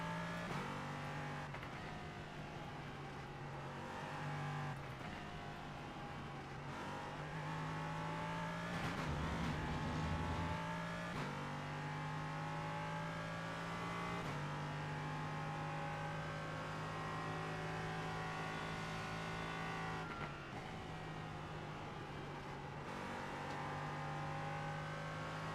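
An LMP3 race car engine drones steadily through a lap of Zandvoort in a racing game, with pitch rising and falling through gear changes and corners and no talk over it.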